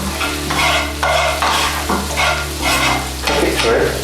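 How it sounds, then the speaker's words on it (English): Steady sizzling and spitting of food frying in a pan, loud and close, with periodic scraping bursts as it is stirred. "We're pretty much frying it at this stage."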